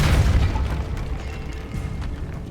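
The Depulso force spell cast in the game Hogwarts Legacy lands as a deep, booming blast that opens loudly and then rumbles and fades over a couple of seconds, with no talk over it.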